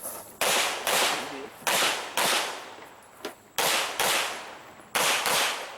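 Loud, sharp gunshots at an IDPA shooting match at Mecklenburg Wildlife Club, about seven reports in quick irregular succession, each ringing out with a decaying outdoor echo.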